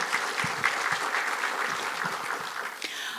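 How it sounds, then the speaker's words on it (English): A conference audience claps moderately and steadily, a fairly soft, even patter of many hands heard from a distance that continues throughout. "Please give these people a round of applause for bringing this conference together."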